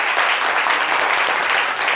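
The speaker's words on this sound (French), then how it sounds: "On va applaudir maman jusqu'à ce qu'elle arrive." A studio audience claps continuously for a mother as she makes her way in, a dense, loud, unbroken patter of applause filling the whole moment.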